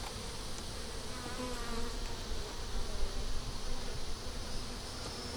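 A dense, steady buzz of many honey bees up close in an opened, honey-bound three-deep eight-frame hive, swelling slightly in loudness midway, with no talking.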